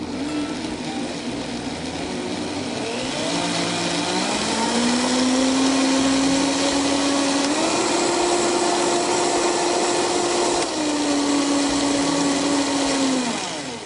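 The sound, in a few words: blender pureeing soft carrots in orange juice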